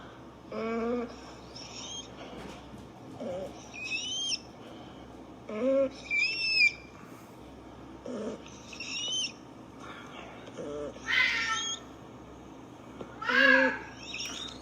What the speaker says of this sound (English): You can hear Rocket struggling to breathe.